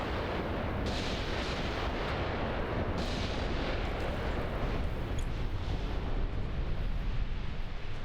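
Soviet artillery in Graviteam Tactics booms in a dense, continuous rumble of distant heavy shelling, with deep thuds rolling over one another at a steady loud level.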